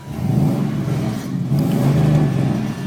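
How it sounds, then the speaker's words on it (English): A deep, steady engine rumble from a 2002 Chevrolet Silverado pickup with aftermarket exhaust idling nearby, a throaty low drone that swells slightly now and then. "Kind of has a rumble to it, like a little aftermarket exhaust."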